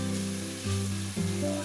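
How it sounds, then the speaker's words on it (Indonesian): Blended spice paste sizzles and crackles steadily in a hot pan, close and continuous, the oil already mixed into the paste, with a low background hum and no voices. "Lanjut, setelah di blender halus, kita tumis."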